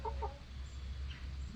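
Backyard laying hens, including Rhode Island Reds, Barred Rocks, Sapphire Gems, White Leghorns, Easter Eggers and Olive Eggers, give a couple of quick soft clucks at the start, then only faint outdoor background remains.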